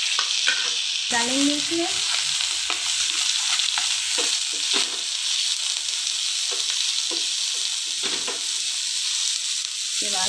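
Onion fries until light brown in a pan with green chili and curry leaves, a continuous close sizzle with rhythmic spatula stirring and scraping, and a brief spoken remark early on.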